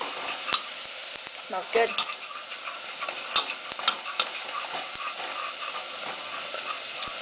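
Garlic sizzles in olive oil in a pan over medium-high heat, a steady close hiss broken by scraping stirs and soft clicks. A voice speaks briefly over it.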